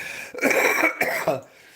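A few harsh, throaty coughs close by, rough and phlegmy, with brief pauses between bursts.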